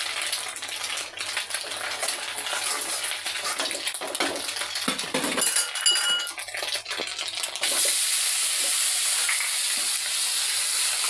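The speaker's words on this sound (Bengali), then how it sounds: "আমি একটু নাড়বো" Food sizzles in a hot pan while a spoon stirs it, with scraping and clinks over a steady hiss. The hiss grows louder and brighter partway through. Nobody speaks.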